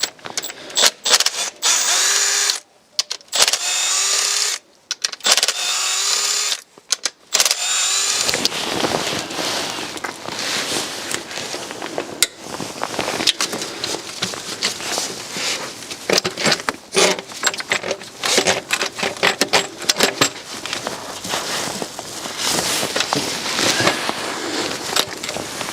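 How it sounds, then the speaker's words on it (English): A power tool works loose the intake manifold bolts on a BMW M57 diesel engine. Several short loud bursts give way to a long, continuous rattling whir that stays close and harsh. "Now let's get all of the intake manifold bolts removed."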